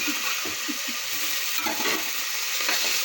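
Ginger garlic paste frying in a pan for home-style chicken curry, a steady loud sizzle with a few soft scraping stirs throughout.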